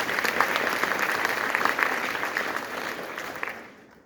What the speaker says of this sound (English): Can we just give them one more round of applause for them?